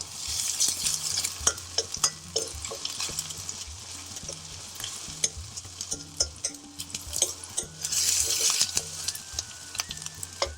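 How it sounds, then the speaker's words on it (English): Onions sizzle in a pan with a pinch of salt while a utensil scrapes and stirs them in a steady rhythm, the frying hiss flaring louder at the start and again near the end. "Midway through frying your onions, what you want to do is just put a pinch of salt in"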